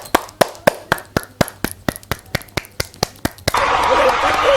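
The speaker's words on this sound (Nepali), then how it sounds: "उहाँको लागि ताली।" An audience claps in slow, even unison, about fourteen sharp separate claps, then breaks into a full, dense round of applause for the last second.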